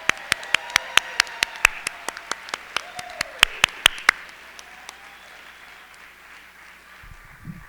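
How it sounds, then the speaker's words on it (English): Sparse, sharp hand claps ring out at a teacher appreciation event, about twenty distinct, slowly spaced claps from a few people over four seconds before fading into quiet room tone. "Let's give them another round of applause."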